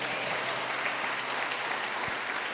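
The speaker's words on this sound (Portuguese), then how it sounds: "Dê uma salva de palmas ao Senhor." A church congregation applauds during a Sunday morning service, a dense, steady wash of many hands clapping together throughout at moderate distance.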